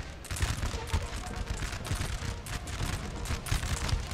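Dense musket volleys and cannon fire from a Napoleon Total War battle, a steady crackle of overlapping shots with low booms throughout, loud and continuous with faint voices mixed in.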